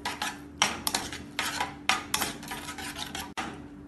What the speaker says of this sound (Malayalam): ഇനി ഇതെല്ലാം കൂടി നന്നായി ഇളക്കി മിക്സ് ചെയ്യാം